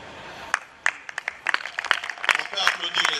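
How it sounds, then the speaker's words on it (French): A church congregation at a 2023 gathering in the DR Congo breaks into applause, starting as scattered claps that grow into a denser, uneven patter, with a voice speaking over it. "On peut applaudir le Seigneur."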